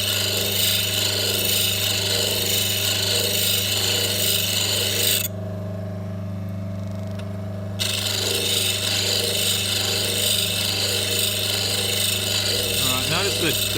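A chisel is sharpened on a grinder, throwing sparks across its face and back, a loud continuous rasping grind that drops out briefly for a couple of seconds before resuming.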